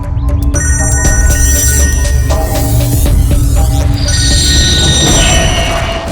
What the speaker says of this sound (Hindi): हाँ दया, मुझे मालूम है तुमने फोन किया है।